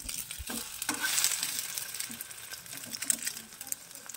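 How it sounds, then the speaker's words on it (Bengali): Egg-dipped bread slices fry in hot oil with a steady, close sizzle and crackle, broken by a few light clicks as they are moved in the pan. "ডিমের যে গোলাটা তৈরি করলাম সেটার মধ্যে ডুবিয়ে তেলের মধ্যে দিয়ে দেব।"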